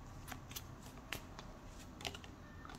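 Tarot cards are shuffled quietly at close range, producing soft irregular riffling and slapping bursts over a faint hiss, with no voice.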